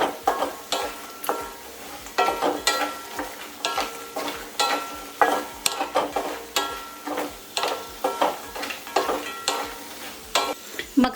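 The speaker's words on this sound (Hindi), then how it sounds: "मखाना मिलाने के बाद भी इनको थोड़ा भून लूंगी" Makhana fox nuts, with almonds and cashews, are roasted in a pan to a regular rhythm of stirring. Each pass of the spatula brings a crisp scrape and rattle over a light sizzle, repeating steadily and close by.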